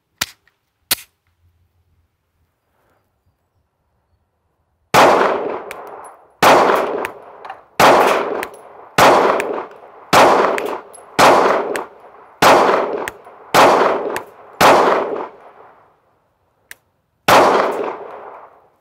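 Sig Sauer P365 pistol firing Remington UMC rounds, ten sharp shots in a steady run with brief gaps, loud and close, after two isolated reports at the start.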